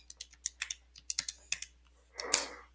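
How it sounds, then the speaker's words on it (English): Fingers tap out a math expression on a calculator keypad, about a dozen quick, light clicks in an uneven rhythm, followed by a short rustling clatter, with no talking. "I'm just typing into my calculator right now."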